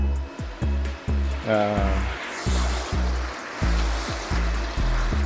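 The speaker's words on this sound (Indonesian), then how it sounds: "nyalakan aerasinya" An aeration pump bubbling water in a tilapia tank of a recirculating aquaculture system, with loud, close, rhythmic gurgling pulses repeating about twice a second, under a brief spoken word.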